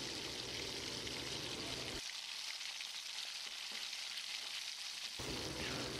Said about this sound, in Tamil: இதுவும் பேஸ்ட் ஆகிற அளவுக்கு வதக்கிட்டு விடலாம்.